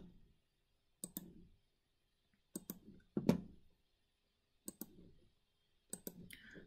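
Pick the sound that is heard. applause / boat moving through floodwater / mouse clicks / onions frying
mouse clicks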